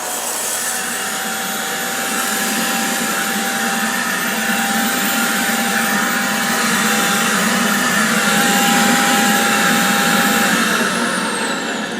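A Karcher VC5 Premium compact vacuum cleaner, partly clogged, runs continuously with a loud, steady whining roar and a thin high tone throughout, with no talking.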